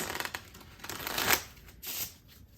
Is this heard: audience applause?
no